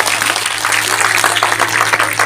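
A crowd applauds the organizers at a large devotional Bhagavat Katha gathering held by a temple committee. Dense, loud clapping carries steadily throughout over a low, constant hum from the sound system.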